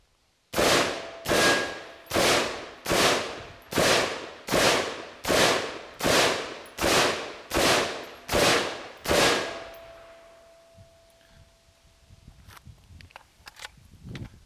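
Rifle shots fired in a steady drill, about one per second: eleven loud, sharp, evenly spaced cracks with ringing decay, followed by quieter handling clatter and a faint tone.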